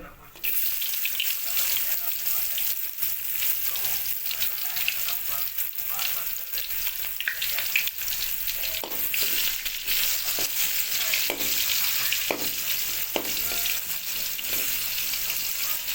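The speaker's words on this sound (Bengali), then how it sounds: "পেঁয়াজের কিছুক্ষণ ফ্রাই করার পরে মশলা দেওয়া হবে রেখে ফ্রাই করা হচ্ছে" Onions fry in a pan of hot oil for a bitter gourd, potato and pointed gourd curry, giving a strong, continuous close sizzle with occasional stirring scrapes throughout.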